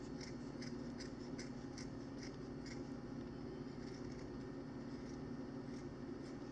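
Scissors snipping off excess filter sock material for a saltwater aquarium, a quick run of faint, evenly spaced cuts over a steady low hum.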